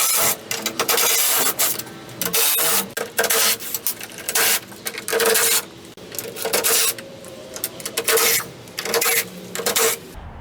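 On a Dodge Dakota or Durango grille, 8mm nuts and plastic fasteners are loosened with a tool, giving repeated bursts of harsh ratcheting and rasping, each a second or so long, separated by short pauses, close and loud.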